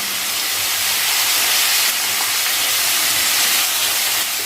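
Onion and tomato sauté with salt in a pan for a Tamil mochai kulambu, giving a steady, broad sizzling hiss that stays even and close for a few seconds with no talking.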